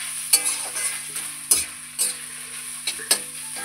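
Four or five whole garlic cloves fry in hot oil, a close, steady sizzle broken by several sharp spatula knocks and stirs, with no voices.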